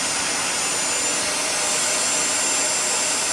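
A Bissell 3624 Spot Clean Professional portable carpet cleaner runs its suction on fabric, giving a loud, steady, close-up motor roar with a broad airy hiss that holds constant throughout, with no voices.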